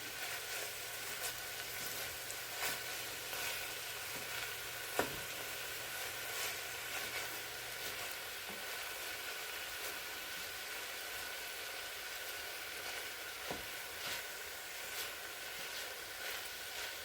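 Ground meat browns in a pan for red chili with a soft, steady sizzle and faint crackle, plus occasional light scraping or stirring clicks, fairly quiet and without talk.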